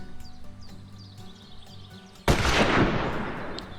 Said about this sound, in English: we're going to take a shot out here and see if we're on